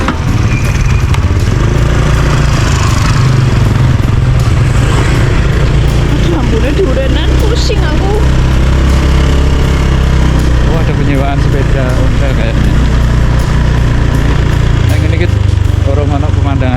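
A motorcycle engine runs steadily and accelerates on a ride around Telaga Ngebel lake, a continuous low rumble close to the microphone with wind noise and a voice talking over it.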